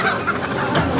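Chickens at a market, native country hens among them, cluck loudly and close by in a busy cluster of overlapping calls, with no talk.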